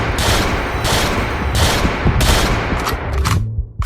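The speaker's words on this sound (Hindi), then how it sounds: "तभी हमारे गुल्ली बुल्ली की एंट्री होती है और उन्हें बंदूक से वे मारने लगते हैं" Rapid bursts of gunfire blast out in a mobile horror game as characters shoot zombies, loud repeated volleys packed close together over booming low rumble, easing off near the end.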